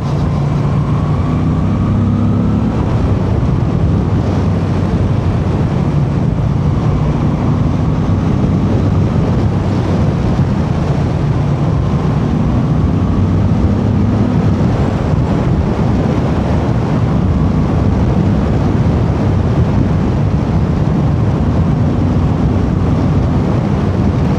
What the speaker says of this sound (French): Le bruit moteur, il contribue vraiment à faire de cette moto une vraie usine à frissons